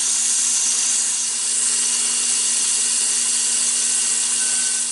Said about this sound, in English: So I'm going to start sanding this at 220 and 320 and then finish it.